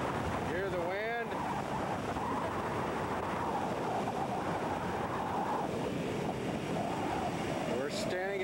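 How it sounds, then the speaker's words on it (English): Wind rushes steadily over the stern of a cruise boat out on a harbor, a loud continuous roar mixed with surf, with a voice speaking briefly near the start and end. "Hear the wind?"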